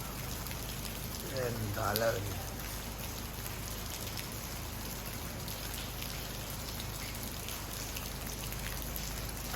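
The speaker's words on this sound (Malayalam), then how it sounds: "അല്ല മഴയാണ്" Steady rain falls in a continuous even hiss around the listener throughout, with a brief spoken word near the start over the patter.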